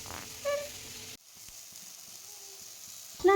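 Spice paste with a little tomato frying for hilsa and aubergine curry, a soft sizzle that dips after a sharp cut and continues with faint scattered stirring ticks.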